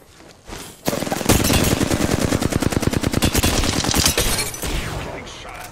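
Rapid automatic gunfire in an action video game rattles off in a long, dense burst of evenly spaced shots, loud and close, trailing into a softer tail.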